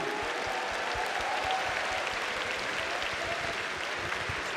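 A fighting game crowd at Evolution 2022 in the Mandalay Bay, Las Vegas, gives a broad round of applause during Street Fighter V Top 8, a steady wash of clapping from a big hall heard at moderate distance.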